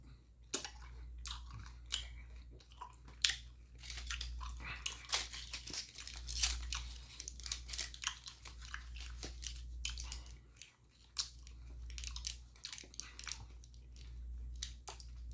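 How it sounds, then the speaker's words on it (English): Gum being chewed close to the microphone makes steady, moist smacking and clicking sounds in an irregular rhythm, faint and continuous with no talking over it. "I know I look like a cow the way I'm chewing this gum."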